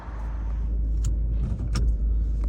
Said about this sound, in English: let's get in the car